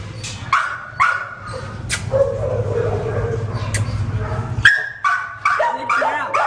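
A dog barks repeatedly in sharp, close bursts, mixed with yips and whimpers over a low background hum, with people talking at times.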